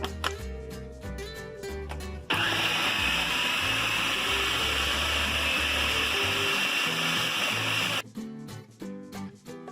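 A food processor whirs loudly for about six seconds while chopping parsley, turnips and zucchini, a steady high-pitched motor roar, framed by background music before and after.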